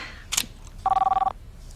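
A telephone bell rings once in a rapid burst of about half a second, close and clear, after a short click, with no talk.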